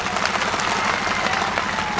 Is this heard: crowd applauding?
yes